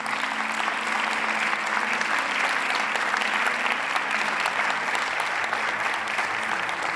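A church congregation gives sustained, steady applause at the close of a Spanish-language service, dense even clapping filling the room without a break and with no voices standing out.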